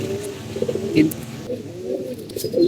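Pigeons bathing in water coo in low, throaty murmurs close by, with faint fluttering and splashing water behind them.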